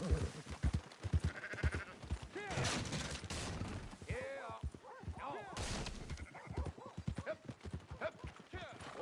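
Several soft sheep bleats in the video game Red Dead Redemption 2, mixed with rapid clopping hooves and some talking, fairly busy and close.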